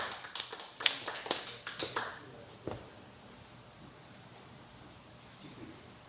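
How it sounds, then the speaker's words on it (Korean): Scattered, fairly faint clapping from an audience welcoming a pastor at a national prayer meeting, a few uneven claps for about two seconds, then a single clap, before the room falls to quiet background noise. "네, 박수로 모시겠습니다"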